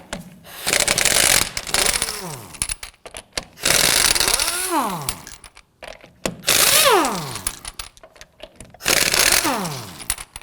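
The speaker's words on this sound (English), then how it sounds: "Now we're going to use our 19mm socket to loosen and remove the lug nuts." An impact wrench with a 19mm socket loosening lug nuts on a 2008-2011 Ford Focus rear wheel, four loud close bursts of rapid hammering that wind down in pitch after each run, separated by short pauses.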